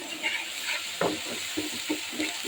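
Ginger and garlic paste with cumin, turmeric and salt stirred in a hot pan, with a steady sizzle under repeated spoon scrapes, close and alone.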